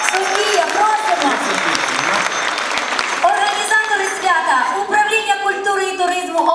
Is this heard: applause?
yes